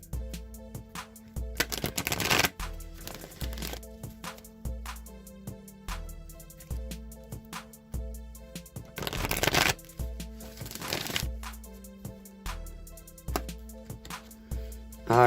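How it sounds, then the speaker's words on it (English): A Wisdom of the Oracle tarot card deck being shuffled by hand, close and crisp, in repeated riffling bursts and soft card taps over faint background music. "I'm going to shuffle the Wisdom of the Oracle deck now"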